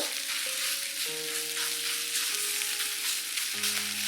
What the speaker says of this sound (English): when the oil is hot, add in the pork belly